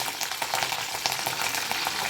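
Curry leaves crackle and sizzle in hot oil with cumin seeds for tempering, a steady close frying hiss with small pops throughout.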